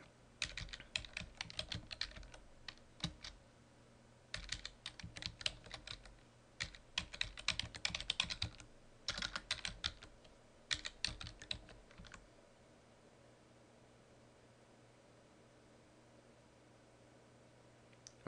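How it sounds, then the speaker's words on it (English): A computer keyboard clatters in bursts of quick, close keystrokes with brief pauses between runs, then falls quiet for the last few seconds while a setup command is typed on a CentOS 6.4 server. "we'll type the NX setup command"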